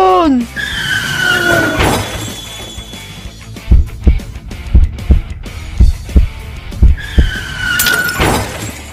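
A Tamiya toy race car from an animation crashes and breaks in a sharp shattering burst, followed by a run of evenly spaced clattering knocks as pieces tumble, with cartoon whooshing effects at the start and end.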